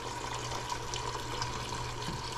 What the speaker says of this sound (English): So we're going to pour that water out